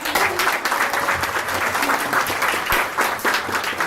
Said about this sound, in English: So please give another big round of applause